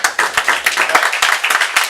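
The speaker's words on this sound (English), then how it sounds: "Give him a round of applause, right?" A small group of meeting attendees claps alone for a colleague at a sales business meeting, sharp individual hand claps close by in a loose, uneven rhythm.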